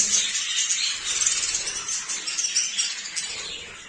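Dense high chirping and twittering of many budgerigars in a breeding aviary, a continuous close chorus without pauses.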